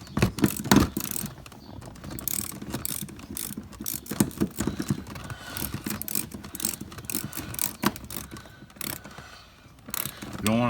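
Ratchet wrench tightening long lag bolts while installing a Prowler waterfall, rapid close clicking of the pawl in repeated back-and-forth strokes, loud and uneven, with no talking.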